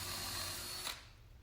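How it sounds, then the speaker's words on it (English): Power drill pre-drilling screw holes into a garage door header for an opener's header bracket: a steady high whine running at speed, then stopping abruptly, with the motor spinning down to quiet. "So I'll pre-drill all 4 spots that I marked"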